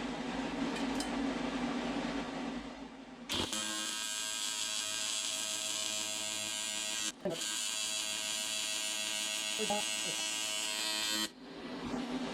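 A welding torch joining a supercharger manifold made of two pieces of equal thickness: a loud, steady electric buzz that starts abruptly, runs about eight seconds with one brief break, then cuts off, with quieter shop noise before and after.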